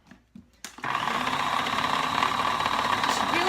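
Food processor whirs into action for a Mexican party dip, after a few clicks and knocks of the lid, then runs at a steady loud whine, close by, with no talking.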